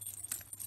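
Light metallic jingling, a brief rattling shimmer of small gypsy coins sewn on red fabric shaken together, close and fairly quiet with no talking.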